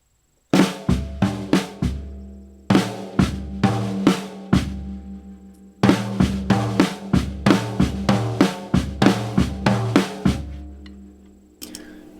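A drum rudiment in a five-note pattern is played freely without a set tempo, loud and close, in repeated bursts of rapid strokes with short gaps between groups, drums alone.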